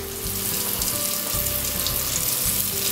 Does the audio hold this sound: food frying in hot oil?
yes